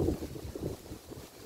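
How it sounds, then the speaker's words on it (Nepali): Strong wind gusting across an open grassy hilltop clearing, a loud rumbling buffet against the microphone that surges and eases over a short stretch with no voice. "पुरा हावा चल्दैछ गाइस"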